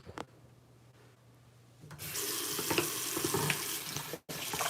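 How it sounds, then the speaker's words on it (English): Hands are washed under running tap water: after a quiet opening with light handling sounds, the faucet gushes on at full strength and splashes steadily and close by, with a brief cut near the end. "So now I can wash my hands."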